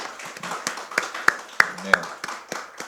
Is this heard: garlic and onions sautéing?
no